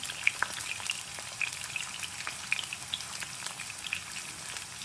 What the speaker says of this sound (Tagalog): Magluto na po tag bulad.